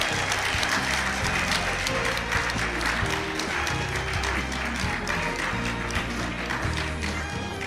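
Applause for a participant in a mangrove quiz competition, continuous crowd clapping throughout, with a low steady hum and music-like tones underneath.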